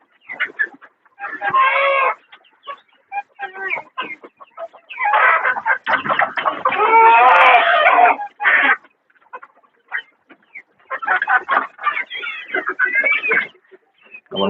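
A fighter rooster of a cross breed on a village poultry farm in Shrivardhan clucks close by in repeated bursts of harsh, rapid calls, separated by short silences.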